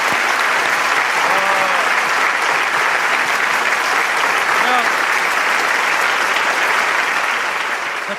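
A festival audience gives loud, dense applause after a performance at a youth blessing event, a steady roar of clapping with faint cheers throughout.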